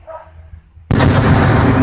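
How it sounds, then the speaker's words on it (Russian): After a near-silent moment, mortar fire near Oktyabrskoe settlement in Ukraine hits as one sudden heavy boom whose broad, rumbling roar carries on to the end. "То есть это минометные выстрелы."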